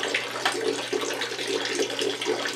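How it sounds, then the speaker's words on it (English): Tap water runs in a steady, continuous splashing rush, close and alone, with slight gurgling fluctuations throughout. "I'm going to let this water run for a while."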